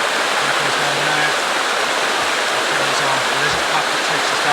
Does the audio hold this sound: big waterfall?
yes